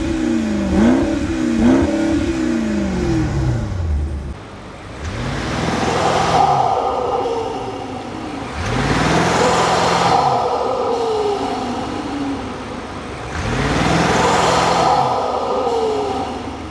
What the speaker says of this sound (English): the car is now a little bit louder and does have burbles a little bit.